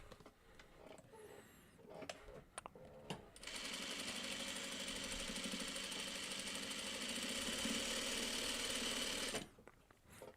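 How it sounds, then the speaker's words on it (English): A sewing machine stitches quilt pieces together in one loud, steady run of about six seconds, preceded by quieter handling and fabric rustling. "The piece fits. Let's sew."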